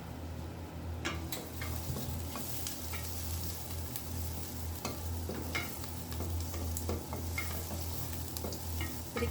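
Onion fries in a pan for a rohu fish head curry while it is stirred, giving a continuous moderate sizzle with scattered utensil scrapes and ticks against the pan, and no speech.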